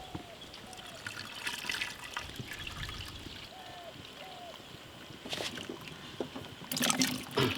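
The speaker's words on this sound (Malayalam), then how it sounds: "നമുക്ക് വെള്ളം ഒഴിക്കാം. വളരെ പതുക്കെ ഒഴിക്കും." Water is poured slowly over a large fruit jelly cake, a soft continuous trickle and splash, close by, with a few louder bursts of pouring near the end.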